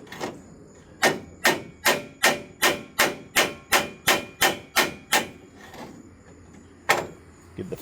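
A steady run of about a dozen sharp metallic hammer blows on bent trailer metal at an even pace, close by, followed after a pause by one final strike.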